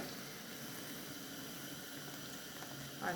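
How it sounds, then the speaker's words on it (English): Steady broadband hiss of boiled water pouring and bubbling onto chickpeas in a pot, continuous and fairly even, with a slight surge near the end. "Then we add boiled water"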